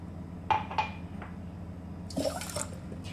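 Water pours into a metal pot holding sugar to make syrup for gulab jamun, heard as a few soft splashes and clinks against the pot, faint and close.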